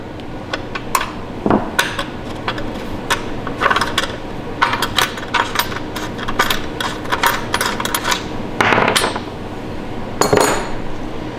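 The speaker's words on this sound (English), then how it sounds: "We can go ahead and take that nut off." A nut being removed from a stud on a Harley-Davidson motorcycle during fender work, heard as a steady series of sharp metallic clinks, taps and rattles from tools and hardware, close by with no talking.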